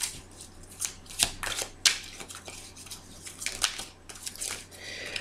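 Tarot and fairy oracle cards shuffled by hand, giving a run of soft riffling swishes and crisp flicks, fairly close, in uneven bursts over a faint steady hum with no talking.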